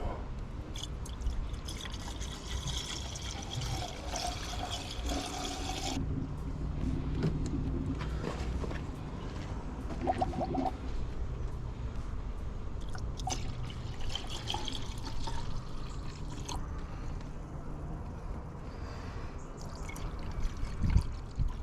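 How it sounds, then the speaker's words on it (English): Coolant being poured into the engine of a Ford Focus ST Mk2, a steady liquid trickle and dribble heard close up over a low background hum, with no talking. "Top up the coolant."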